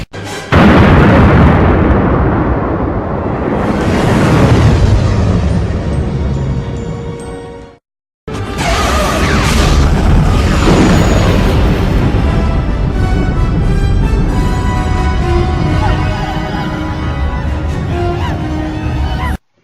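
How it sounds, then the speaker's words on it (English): Death Star explosion sound effect: a massive roaring blast that swells and decays over several seconds, cuts to brief silence, then a second huge boom with a long ringing, crackling tail, loud and alone. "a Death Star explosion."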